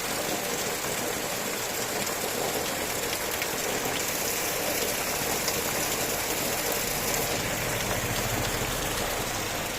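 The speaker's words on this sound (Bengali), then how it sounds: "ভীষণ বৃষ্টি হচ্ছে।" Heavy downpour in a rural Bengal village, a steady, dense hiss of rain drumming on surfaces that holds loud and unbroken throughout with no voices.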